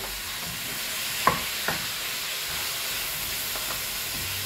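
Jackfruit (langka) frying in a pan with salt and pepper gives a steady, close sizzle, broken by a couple of soft scraping stirs early on.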